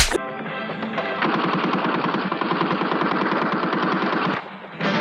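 Sustained rapid machine-gun fire from an Indian action movie scene, loud and dense, running unbroken for several seconds before cutting off abruptly.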